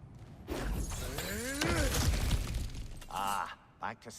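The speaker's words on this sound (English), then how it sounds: "back to smashing through things for fun and profit" Objects shatter and break in God of War Ragnarok: a crunching smash with splintering debris, followed by a few shorter cracking impacts, while a voice talks over parts of it.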